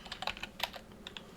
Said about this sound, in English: let's just type this in real quick